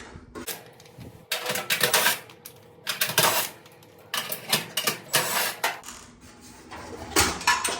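Screws come out of a Whirlpool dryer being repaired for no heat: sharp metallic clicks, taps and short rattling bursts in irregular clusters, fairly close and moderately loud, with no talking.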